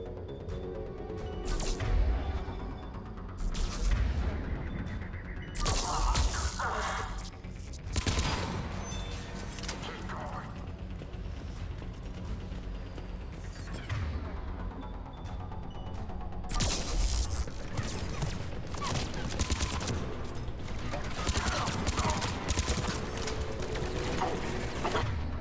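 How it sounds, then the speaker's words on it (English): SMG fire in Mass Effect 3 rips out in rapid bursts of sharp, clattering shots, repeated loud volleys with brief pauses, amid dense game combat noise and no talk. "There's the SMG just fucking ripping through people"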